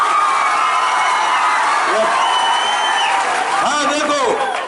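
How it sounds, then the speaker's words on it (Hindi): A large crowd at a school gathering in Mithila, Bihar, claps and cheers loudly, with children's shouts and whoops rising over the steady roar and voices calling out toward the end. "एक बार जोर से तालियां बजाइए"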